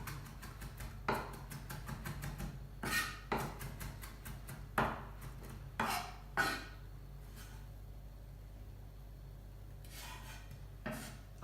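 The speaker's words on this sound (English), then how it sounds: "we're just going to run our knife through the herb. Just chop it up really nice and fine." A knife chopping fresh herbs on a cutting board, a series of sharp close taps in quick bursts with pauses between, fading to occasional cuts over a low steady hum.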